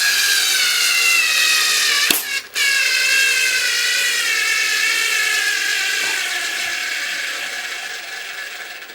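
A Harbor Freight cordless screwdriver drives a 1.5 inch screw in one long, continuous whirring run, close and loud, with a brief interruption early on and a slight fade as the motor starts to lose power.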